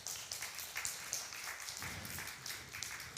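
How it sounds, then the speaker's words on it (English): Applause from the audience at a church Bible study talk, in thanks for Pastor Tom, heard as faint, steady, far-off clapping that carries on for several seconds with no talk over it. "Let's give him a hand of applause."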